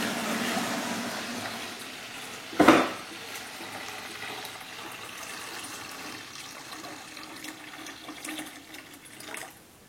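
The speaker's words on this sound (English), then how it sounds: "I'm going to get the water out of this thing." Water is tipped out of a 5-gallon plastic pail, heard as a brief gushing splash near the start of a stretch of faint background trickling and quiet room noise.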